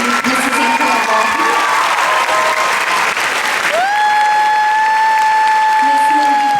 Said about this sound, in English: let's give a special applause to Mrs. Angela Wolf